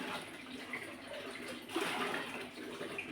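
Clothes being soaked in water, a continuous sloshing and splashing of liquid with a brief louder swirl midway, close and fairly quiet, no speech.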